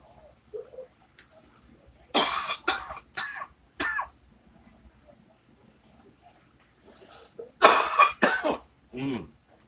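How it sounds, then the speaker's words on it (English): Dry, raspy, nasty coughing from a person recovering from weeks of illness: a burst of several harsh hacks in close succession, a quiet pause, then another cluster of rough coughs ending in a throaty clear, all near and otherwise quiet. "a really dry, raspy, nasty cough"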